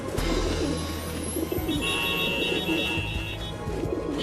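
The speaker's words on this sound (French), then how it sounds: "Les pigeons ont envahi Paris, bloquant le métro, les ponts et paralysant le trafic routier." Pigeons coo in a Paris street in an animated scene, soft repeated coos over city background noise and a passing hum, with voices faintly present.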